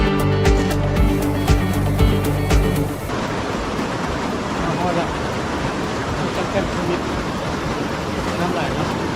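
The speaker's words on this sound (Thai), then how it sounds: "น้ำไหลเนาะ" Flowing water at Xe Bang Fai cave in Khammouane, a steady broadband rush that fills the whole clip, preceded by a few seconds of another tonal sound, with no voices.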